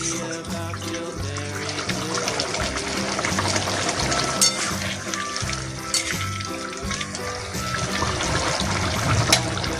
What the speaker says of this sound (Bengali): গরম জলটা দিয়ে দিলাম,